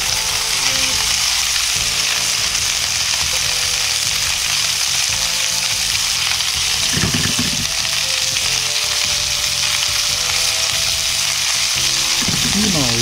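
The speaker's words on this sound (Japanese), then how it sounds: "豚肉に9割ぐらい火が通ったらピーマンを入れて炒めていきます。" Pork and green peppers stir-frying in a wok over a home gas stove on high heat, a loud continuous sizzle throughout with brief scraping stirs, close and steady, with no talk.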